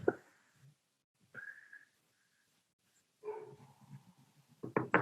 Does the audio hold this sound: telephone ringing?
no